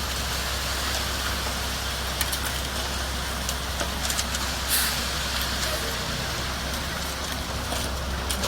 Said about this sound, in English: the concrete truck is here